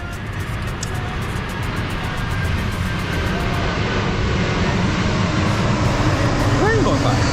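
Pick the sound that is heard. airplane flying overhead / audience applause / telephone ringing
airplane flying overhead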